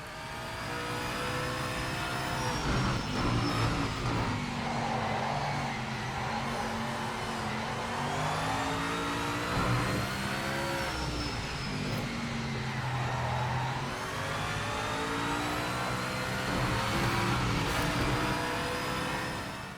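The Mercedes-Benz CLK LM race car in the Project Motor Racing video game, its engine revving loudly and continuously through repeated upshifts and downshifts, rising and falling in pitch with no talk over it.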